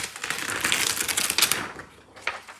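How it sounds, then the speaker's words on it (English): Printed paper is peeled off a Brother ScanNCut cutting mat, making a close, crackling, sticky rustle that runs continuously for a couple of seconds. "hopefully you'll see this as I peel the paper off"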